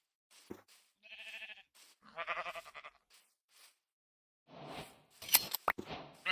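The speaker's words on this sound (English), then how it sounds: "I think I just saw a sheep. Did I? Yes, I can hear it." Sheep bleating inside the Minecraft video game, a few short separate calls with pauses between them, close and clear, followed by a sharper burst of game noise near the end.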